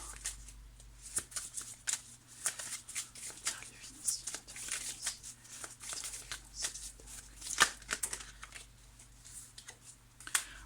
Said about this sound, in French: Je vais sortir une carte après celle-ci quand même